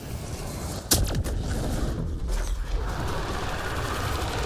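A single sharp gunshot from the video game Mass Effect: Andromeda cracks out near the start, then a dense, steady wash of in-game mechanical noise and ambience continues at an even level for several seconds.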